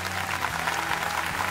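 An audience applauds at a TV singing talent show, La Voz Uruguay, with dense, continuous clapping filling the whole moment and a crowd murmur under it.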